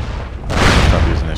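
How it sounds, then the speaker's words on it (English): A shotgun blast in SOCOM Combined Assault, one loud, close, booming shot with a short rumbling tail. "Shotgun."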